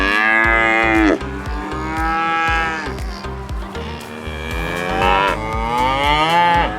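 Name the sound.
cattle at a county agricultural show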